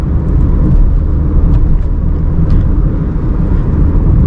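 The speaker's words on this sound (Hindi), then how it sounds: "अभी गाड़ी चल रही है 90 के आसपास और 5th गियर लगा लिया मैंने" Inside a car cruising at around 90 km/h in fifth gear, a steady low engine drone and road rumble holds close and constant, with wind noise and no talking.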